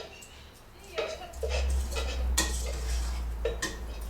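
A utensil stirs rice and lentils together in a cooking pot, scraping and clinking against the metal in a few irregular strokes, close by, with a low rumble and faint voices underneath.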